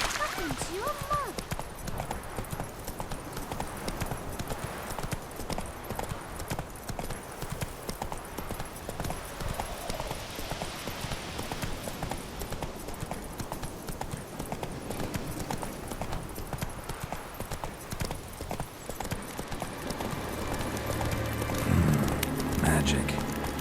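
Roach, a horse in The Witcher 3 video game, galloping: steady, continuous hoofbeats carried along over a dense game ambience for the whole stretch, with no pause in the stride.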